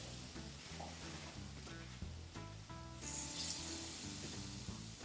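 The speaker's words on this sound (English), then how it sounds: "That nice Wagyu beef just sizzling right there." Wagyu beef burger patties sizzle on a hot flat surface over a charcoal grill, a steady close crackling hiss with background music running throughout and growing a little louder midway.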